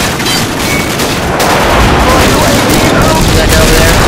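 Dense, loud gunfire in Call of Duty 4 multiplayer Ground War, a P90 and other weapons firing in rapid continuous bursts with booming explosions, filling the whole stretch with a player talking over it.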